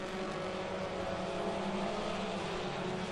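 Ministock race cars roar around the oval at Ohsweken Speedway, a steady loud wash of engines and crowd ambience that holds at one level for the whole stretch.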